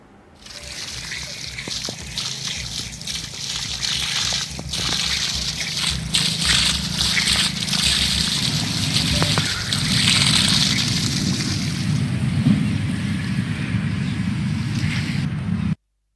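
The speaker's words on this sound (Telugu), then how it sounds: "ఎండిపోతున్న పంటకు రైతన్నలు ట్యాంకర్లతో నీటిని అందిస్తున్నారు" Water from a tanker pours onto drying crops in a farm field in Bhadradri Kothagudem district. The flow sloshes and splashes steadily without a break.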